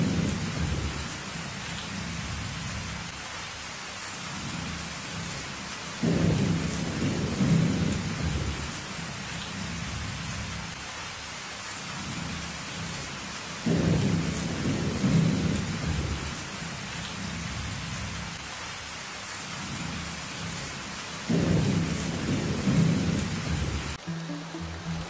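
Steady rain pours down through a thunderstorm while deep rolls of thunder rumble repeatedly, loud and close, roughly every seven seconds, with no voices present.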